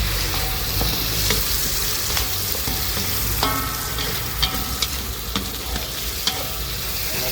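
Vegetables stir-fry with sausage and crispy pork skin in a hot pan: a loud, continuous sizzle broken by repeated sharp clanks and scrapes of the stirring utensil, close up, with no voices.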